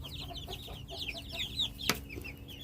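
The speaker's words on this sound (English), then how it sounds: "a couple of little Rhode Island Red Hens in here" Small Rhode Island Red hens cluck and chatter in a coop, a rapid string of close, overlapping soft calls with one sharper squawk near the end.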